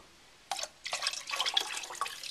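Water poured into a pot of white chicken chili, a brief splash followed by a steady trickling, gurgling pour, close by and moderately loud, with no talking.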